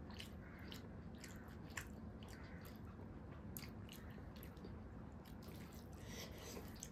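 Close-up, quiet chewing of rice and fish curry, soft wet squishing and small bites repeating steadily over faint background hiss, with no talk.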